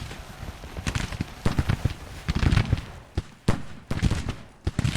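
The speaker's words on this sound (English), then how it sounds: "That's a lot of artillery." Artillery fire in a Civil War strategy video game, a rapid barrage of sharp booming cracks and thuds in irregular bursts, loud and close with no talk.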